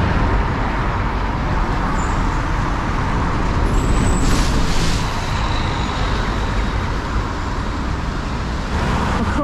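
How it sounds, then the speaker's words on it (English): Buses idle and rumble outside a bus station amid steady road traffic, with a brief sharp hiss of air brakes partway through over the continuous engine drone. "if you like your buses, you come and hang around outside the bus station"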